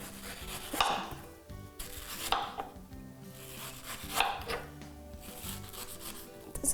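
A knife cutting fruit for a smoothie, with several soft, rhythmic slicing and rubbing strokes against a board, close and quiet.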